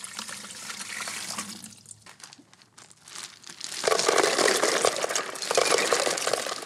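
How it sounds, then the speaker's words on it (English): Water and ice being poured into the tank of an Aquilo cold and compression recovery boot system, with splashing water and crinkling, rattling ice that grows louder and busier in the second half. Close and steady, with no talk. "First, fill the tank with water and ice."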